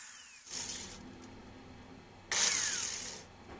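A power grinder shapes a small wooden wedge for a handmade hand plane in two short close bursts of whining abrasion with quiet workshop hum between them, and no one speaks.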